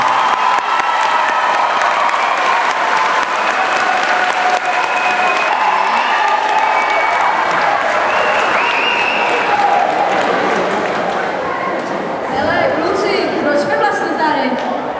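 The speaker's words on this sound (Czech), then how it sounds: "Tak já bych jim teďka na začátek pořádně, ale pořádně zatleskal." Large audience at a musical event in Ostrava applauding loudly and continuously, with cheering, chatter and children's shouts mixed into the dense clapping and a few voices audible as it thins toward the end.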